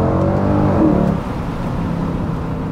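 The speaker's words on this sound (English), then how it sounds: "you don't need a soundtrack when you're listening to that exhaust note" A loud, close Mercedes C63 AMG engine revs with a deep, rumbling exhaust note, rising briefly then settling into a lower steady growl.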